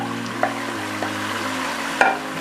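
Browned fried onions tipped into a Sindhi biryani pot and stirred, giving a soft sizzle under a low hum, with a few sharp clinks of the spoon against the pot.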